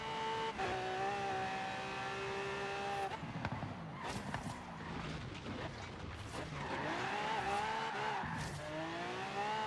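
In Forza Horizon 3 a race car screams through a corner. The engine whines at high revs and shifts pitch while the tires squeal and skid, all loud and continuous, with no talking.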